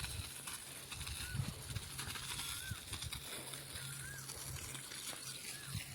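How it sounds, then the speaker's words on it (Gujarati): Water sprinklers spray over a farm field in a faint, steady hiss, with occasional bird chirps in the distance. "ફુવારા શરૂ થઈ ગયા છે"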